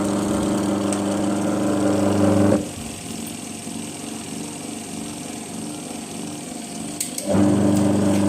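Washer and dryer motors of a washing machine, switched on through a timer, hum loudly and steadily, drop to a quieter, lower drone for several seconds, then return to full strength. No one speaks.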